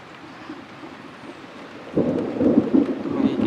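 Thunder rolls through a thunderstorm with cloud-to-ground lightning over Florissant, Missouri, a low distant rumble that swells suddenly into a louder, sustained roar halfway through, over steady rain-like noise.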